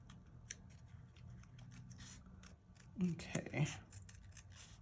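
Scissors snip paper in detailed, fussy cutting for a faith journal page: a series of close, small clicks and snips, busiest in the middle, under soft talk.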